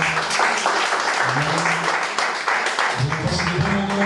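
A church congregation at a French-language Christian service bursts into loud, sustained applause, a dense continuous clapping that fills the room while voices call out over it.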